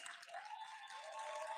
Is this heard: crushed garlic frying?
no